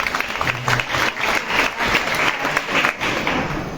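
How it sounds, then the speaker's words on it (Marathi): An audience at a devotional kirtan gathering claps loudly and continuously for several seconds, a dense burst of applause. "जोरदार टाळ्या दिली."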